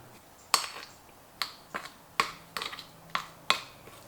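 A spoon taps and scrapes against a bowl while stirring chocolate protein powder into vegan Greek yogurt, six or seven sharp, close clinks spaced irregularly in a quiet room.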